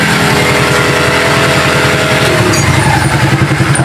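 A Suzuki Shooter 115 FI motorcycle engine idles far too high, a loud, close, rapid buzzing putter with a fast even pulse that wavers slightly near the end.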